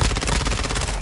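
Rapid enemy gunfire in a multiplayer shooter video game, a dense unbroken burst of shots lasting about a second, loud and close with no talk over it.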